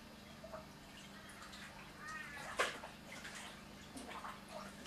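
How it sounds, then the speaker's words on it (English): Water trickles and gurgles softly into a sandless inflatable bag used for erosion control and plant growth, with faint drips and small splashy bursts over a low steady hum. "That SIB's already started to take on the water."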